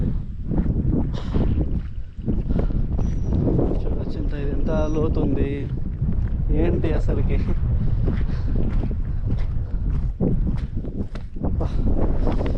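Strong wind buffeting the microphone on a hilltop beside a pond at Korigad Fort near Lonavala, a loud continuous roar throughout while someone talks.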